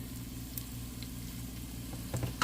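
Curry leaves sizzle in hot oil, a steady close crackle with a few brighter pops near the end and no voices.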